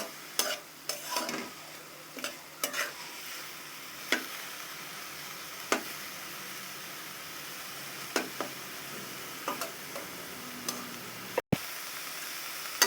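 Soft, steady frying hiss of leaves cooking in a pan as their water dries off, broken by occasional sharp clicks and scrapes of stirring.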